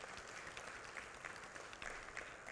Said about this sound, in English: could you please give him a big round of applause?